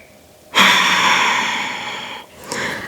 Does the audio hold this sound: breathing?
yes